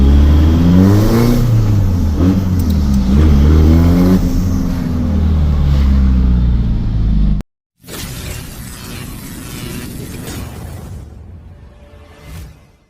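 A used car's engine revs repeatedly, heard up close from the engine bay. The pitch rises and falls in loud, rhythmic surges for several seconds before an abrupt cut to a different, quieter noisy passage that fades toward the end.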